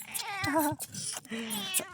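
A domestic cat meows several times in close succession, near and fairly loud, with drawn-out wavering calls and short gaps between them, no speech over it.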